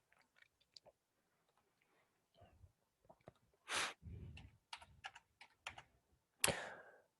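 Typing on a computer keyboard during a drafting session, scattered clicks and short bursts of keystrokes, close but quiet, with silent gaps between them.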